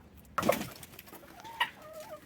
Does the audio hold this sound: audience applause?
no